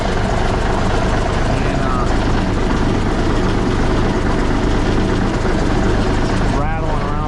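Loud, steady mechanical drone from a cabover truck's air compressor running and building pressure, with the engine idling close by throughout and a voice speaking briefly under it.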